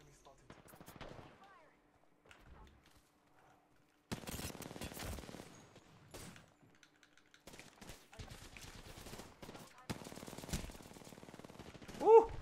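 Apex Legends gunfire crackles in faint, scattered bursts and rapid volleys, partly distant, under players talking amid quiet game ambience.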